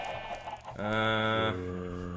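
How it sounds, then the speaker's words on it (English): Chickens on a farm in a video game cluck close and fairly loud, a rough scratchy call followed by a sustained squawk that trails off. "Chicken."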